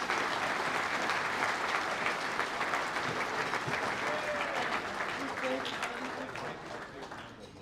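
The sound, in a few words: audience applause for life members leaving stage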